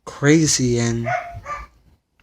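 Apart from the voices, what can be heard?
dog barking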